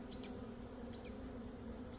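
Honeybees and hornets hover around an opened hive during an autumn inspection, giving a faint, steady low buzz with two brief high chirps over the hum and no voices.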